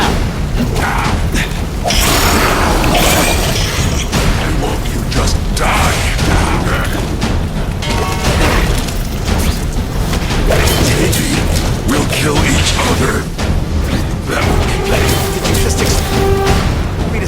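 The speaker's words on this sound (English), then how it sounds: "I call this the seismic blast." Shocker's seismic blast attack in The Amazing Spider-Man 2 video game comes as a loud, sustained rumbling mechanical crash with creaking and debris rattles, dense and continuous with brief tonal game effects.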